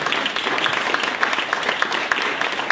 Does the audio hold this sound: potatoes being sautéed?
no